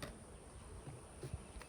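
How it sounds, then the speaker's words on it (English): Crowded honeybees packed inside a hive box make a faint, low, continuous buzzing drone, steady and close with no talking over it. "So you see all those bees?"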